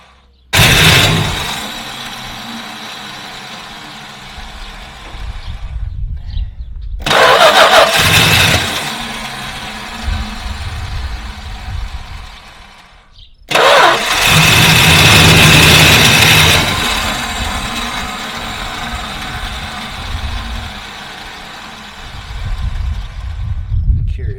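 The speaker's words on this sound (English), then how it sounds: "the starter's staying on. It shouldn't be staying on." A Dodge Charger's starter motor stays engaged after the engine starts, giving loud, close cranking and engine roars in three separate bursts with brief silences between them.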